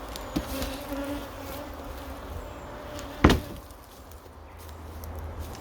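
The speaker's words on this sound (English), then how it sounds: "show you the swarm that I've caught" A caught honey bee swarm in stacked spare hive boxes, a low continuous buzzing hum with a single sharp knock partway through and faint whines of individual bees flying close.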